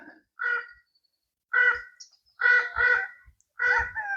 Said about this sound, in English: that loud yelp is the raven.